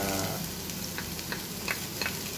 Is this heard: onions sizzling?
yes